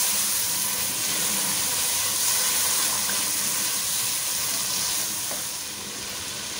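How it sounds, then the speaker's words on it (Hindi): Boiled dal frying in a pan for Bohra-style dal chawal, giving a loud, continuous close-up sizzle that holds steady and eases slightly toward the end. "दाल जो मैंने बॉईल करके रखी थी वो मैं इसके अंदर डाल दूंगी, और बस मैं इसको भून लूंगी अच्छे तरीके से"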